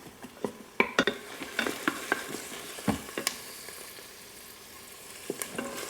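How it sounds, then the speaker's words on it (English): Onions sauté in melted butter in an Instant Pot, making a soft, continuous sizzle broken by irregular scrapes and clicks from a utensil stirring against the pot, with no talking. "So we're gonna saute those around for about 2 minutes, just until soft."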